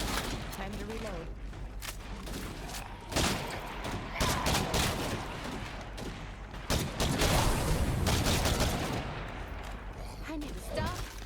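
Rapid gunfire bursts in the Daybreak video game, crackling shots and thuds repeating loudly through a dense battle mix with little pause.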